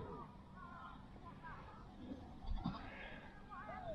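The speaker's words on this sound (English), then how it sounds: "Today we've got some sheep and some lambs." Sheep and lambs bleat at a caravan and camping park in Norfolk, several calls rising and falling over a few seconds, moderately distant, amid faint background chatter and ambient noise.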